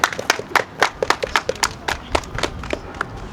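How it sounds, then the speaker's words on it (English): A small audience at a press conference on medical care in Minnesota jails claps in sparse, distinct handclaps, each crisp and separate, with no speech over them. "Give her a round of applause."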